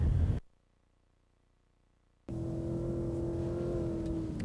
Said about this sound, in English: I'd say the motor sounds good